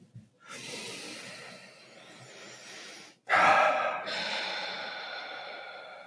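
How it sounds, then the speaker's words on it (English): A single deep breath, drawn in with an audible rush of air, a brief pause, then a strong forceful exhale that trails off, close to the microphone with no talk. "I take one deep breath"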